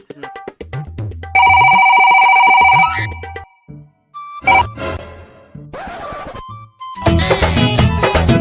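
A telephone rings in short bursts: a bright electronic ringtone with repeating tones, loud and close, broken by rustling, clattering and brief pauses.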